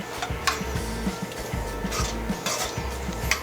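Pumpkin seeds, roasted corn, bacon and heavy cream sautéing in a pan, with a utensil scraping and clinking against the metal in a steady, close stirring rhythm over a soft sizzle.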